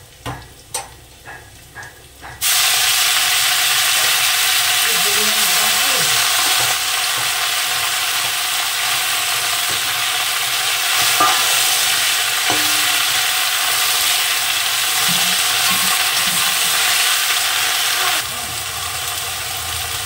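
Jute leaves hit a pan of hot oil with fried garlic, a few soft clicks first, then a sudden loud, steady sizzle that continues for many seconds with faint stirring scrapes and no speech.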